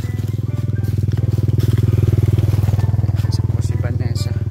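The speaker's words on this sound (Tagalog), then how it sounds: "At saka may naririnig akong motor." A motorcycle engine runs nearby with a strong, rapid low putter, rising slightly and easing off as it passes on a road near a house, loud and steady.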